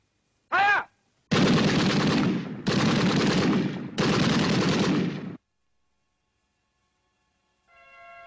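Gunfire in a 1958 war film after a shouted firing command, a volley of three long, loud bursts of rapid shots with brief gaps between them, ending abruptly before a faint tone begins.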